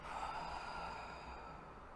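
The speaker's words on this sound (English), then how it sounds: "Breathing from the upper abdomen, from the lower lobes of your lungs. Okay? Breathe in and out." A person breathes slowly and deeply in and out during a guided meditation, one continuous close, soft airy breath sound with no talking.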